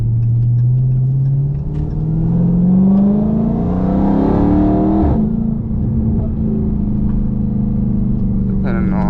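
A Dodge Hellcat Redeye engine revs hard while driving: a loud, close roar climbs steadily in pitch, drops off sharply, then settles into a steady drone.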